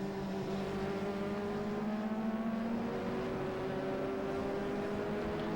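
A lightweight, low-cost race car powered by a Mazda RX-7 rotary engine runs at Oulton Park, giving off a steady, fairly distant engine drone with sustained tonal whine and little change in pitch throughout.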